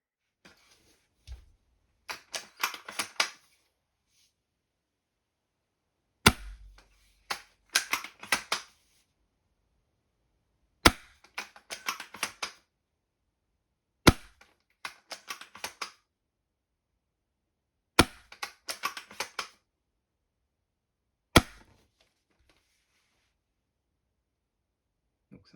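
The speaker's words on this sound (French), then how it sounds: "je vais vous montrer quelques tirs" An upgraded TAC 41 airsoft rifle fires single shots in spaced bursts, each sharp snap followed by quick mechanical clicks, close and crisp with silence between volleys; the first volley uses a variable-mass piston dry-fired.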